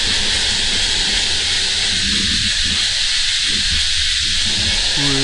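A defensive king cobra lets out a loud, continuous breathy hiss close by, a broad steady rush of air that carries on throughout.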